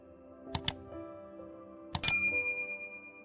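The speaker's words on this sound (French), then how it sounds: "active également la cloche de notification pour ne manquer aucune de nos vidéos" A notification bell sound effect, two pairs of bright metallic dings, the second ringing out longer with a fading shimmer, clear and isolated against near silence.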